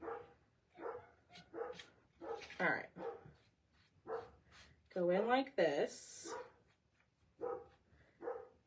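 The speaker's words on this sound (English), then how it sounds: "I'm sorry if he's making your dogs bark too." A dog barks and yelps in short bursts in the background while a person talks nearby, the barks rising over the speech in places.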